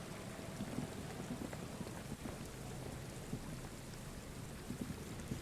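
Steady rain in the video game Disco Elysium, a dense and even hiss of falling water that holds at a constant moderate level throughout, with no voices.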